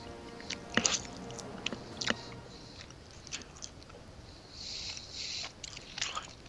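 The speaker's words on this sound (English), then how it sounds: "some loud chewing" Loud, close chewing and biting sounds during a game discussion, a few sharp crunchy bites early on followed by softer wet mastication, with faint talk in the background.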